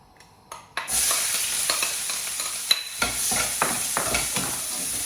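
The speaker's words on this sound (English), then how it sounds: "So to there we're going to add in our onions." Onions for a chicken jalfrezi drop into a hot pan after a brief quiet moment, then sizzle loudly as a spoon stirs them with repeated scraping clicks against the pan.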